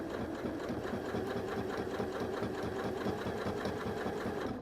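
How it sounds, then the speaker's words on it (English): A sewing machine running steadily, top stitching straight along the edge of a fabric bag to close its opening, a continuous close mechanical whir with a fast rhythmic hum and no pauses. "You can simply put your needle down and sew all the way from one end to the other, closing up that opening."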